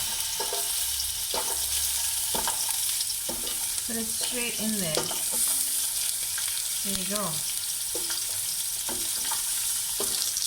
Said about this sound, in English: You can hear the sizzle already.